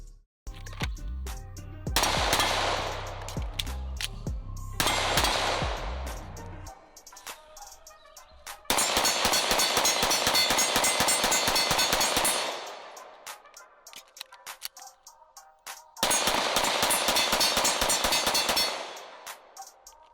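Bursts of gunfire at an outdoor shooting range, loud and close, arriving in several long rapid strings separated by brief pauses, with a few scattered single shots between the volleys.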